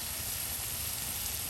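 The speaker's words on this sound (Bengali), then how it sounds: "আপনাদের দেখাই মশলাটাকে একদম কষানো হচ্ছে" Onion and spice masala sizzling as it is sautéed in a pan for a traditional village-style desi chicken curry, a steady dense hiss with no breaks.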